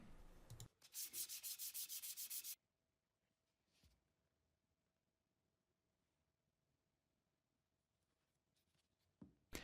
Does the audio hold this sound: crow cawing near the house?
no